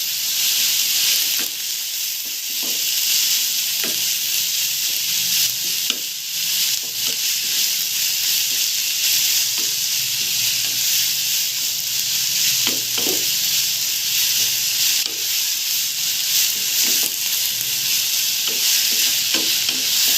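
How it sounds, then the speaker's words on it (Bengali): Chicken mince filling for wontons fries with a steady bright sizzle in a pan, while a spatula scrapes and stirs it at irregular intervals, close and fairly loud throughout with no talking. "ভালো করে নেড়ে ঝুরা ঝুরা করে নিতে হবে।"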